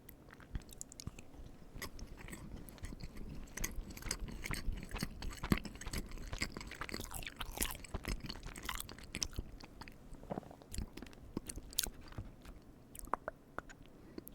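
Cookies dipped in milk are chewed close to the mic, giving soft, irregular crunches and wet bites at a quiet level.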